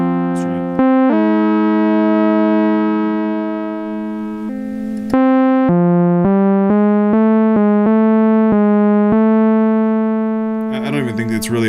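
Two sustained synthesizer tones glide and step around a central pitch to settle a perfect fifth apart, bright harmonic stacks held steady, loud and close with short breaks between notes.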